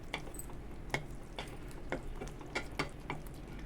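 A spoon scrapes and taps through mushroom curry in a pan as a tablespoon of coriander powder is mixed in, giving a soft steady sizzle with several sharp clinks against the pan.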